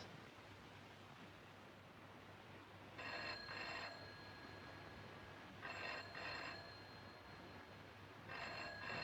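An old-style telephone bell rings in three separate bursts of roughly a second each, spaced a few seconds apart, over a low steady rumble of a train in motion.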